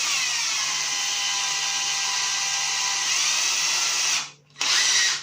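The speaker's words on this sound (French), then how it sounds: "je vais forer donc sur une fine tôle, donc avec ma visseuse ici" A cordless drill driver bores through thin sheet metal with a loud, steady high whine, briefly dropping out near the end before spinning back up.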